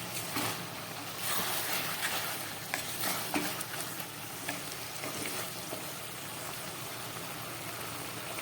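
Malabar spinach with lentil dumplings and vegetables cooks in a pan, giving off a steady sizzle and bubbling frying hiss with occasional stirring clinks, close and continuous, with no talk.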